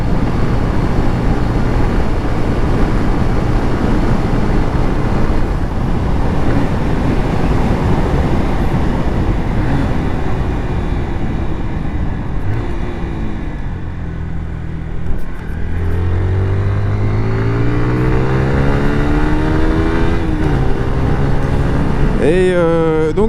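A 2004 Honda CBR 125 R motorcycle engine and exhaust run continuously, a steady rumbling drone with pitch sweeps as revs rise and fall near the end.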